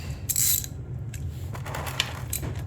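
A ratchet clicks in quick bursts while it loosens a bolt during an oil change on a 2021 Kawasaki Ninja 400. The sound is close and fairly faint, with a low background hum.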